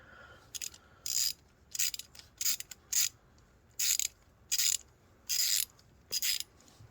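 Ratchet wrench tightening a 15mm nut on a go-kart bolt: a steady series of crisp, close clicking strokes with short pauses between them, alone without speech.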